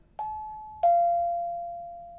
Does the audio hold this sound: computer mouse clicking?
no